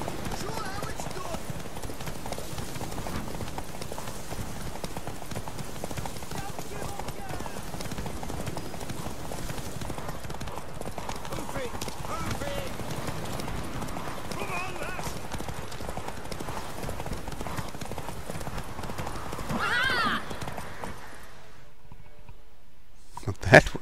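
Rhythmic hoofbeats of a horse galloping in The Witcher 3: Wild Hunt, a steady clip-clop running throughout under game ambience, ending with a short snort or whinny.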